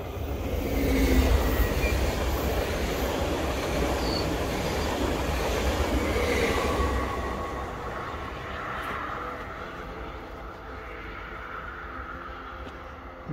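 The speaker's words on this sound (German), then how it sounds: "Kommt noch ein Zug." Train rumbling past near a hiking path in the Emmental, loud and close at first, then a steady rolling roar with faint wheel squeal that gradually fades as it moves away.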